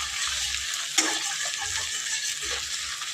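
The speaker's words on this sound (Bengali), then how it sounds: "এটা ভালো করে একটু ভেজে নিতে হবে।" Fish fat fries in a pan with a steady hiss, broken by a sharp utensil knock near the start and a few soft scraping stirs, quiet and close with no voices.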